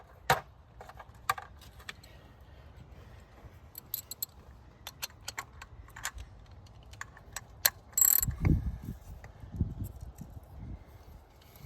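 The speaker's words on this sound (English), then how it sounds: "there's the spark plugs that I'm removing" A ratchet with a spark plug socket on a long extension working out spark plugs on a Honda Accord, a series of sharp close clicks in irregular bursts with a louder clatter near the end.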